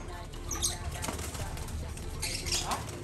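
A flurry of wings flapping as pigeons take off, soft and a little distant, in two quick bursts over faint background noise.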